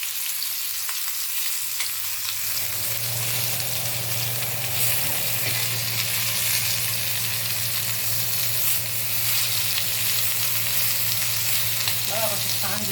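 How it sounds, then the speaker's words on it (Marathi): Mandeli fish frying in hot oil in a pan, a steady close broadband sizzle running throughout with a low hum beneath and small crackles, no talking. "ह्या तळून घेऊ। आता एका बाजूचे झालेत तळून,"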